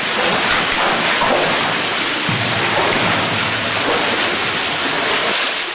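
A lively waterfall splashes inside the Goodluck Mine beside a white calcite deposit, a loud, constant broadband rush of falling water that fills the space without break.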